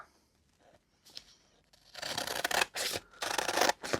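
Scissors snip and rustle through paper during a crafting session, a few quiet strokes followed by louder bursts of cutting and crinkling close by.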